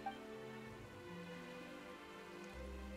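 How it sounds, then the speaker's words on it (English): Rain falls in the Fontaine region of the video game Genshin Impact. It makes a steady, even patter that holds at the same level throughout, with a low tonal hum beneath it and no voices. "Why is it raining all of a sudden?"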